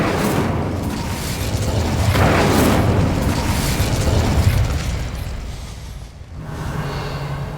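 A loud, sustained fiery burst from an Incendio fire spell in the video game Hogwarts Legacy, roaring and crackling for several seconds before fading into a quieter ambient background.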